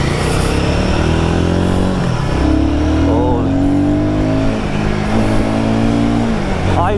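Royal Enfield Guerrilla 450 motorcycle ridden on the road, its engine droning steadily with rising and falling revs as it pulls through gears, loud and close with wind noise throughout and a voice briefly speaking over it.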